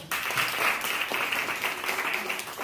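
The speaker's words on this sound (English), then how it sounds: "So give him a round of applause." Brief, energetic clapping from an audience at a primary school maths quiz competition, starting abruptly and continuing in a busy patter of hands for a couple of seconds.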